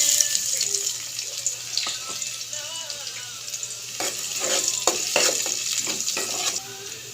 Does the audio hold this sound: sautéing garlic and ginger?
yes